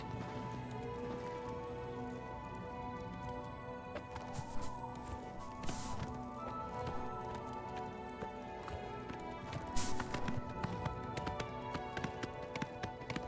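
Horse hooves clopping steadily in the game Oblivion, a continuous patter under layered game ambience and music, with a few louder knocks standing out near the middle and end.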